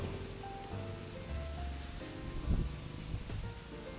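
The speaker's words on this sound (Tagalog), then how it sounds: "Ayun o, malakas na yung ulan dun oh." Steady heavy typhoon rain hissing across a broad band in the Philippines, with gusty swells and low rumbling wind, no voices.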